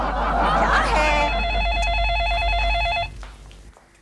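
A telephone bell rings in a household, a steady electronic trill repeating for about two seconds after some brief clatter and voice at the start, then stopping.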